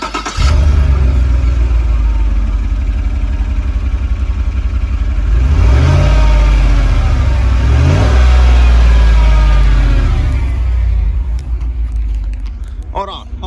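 A stock pickup truck engine with its flex pipe removed cranks, catches and revs loudly close by, rising and falling in a couple of deep throaty surges, with people talking over it.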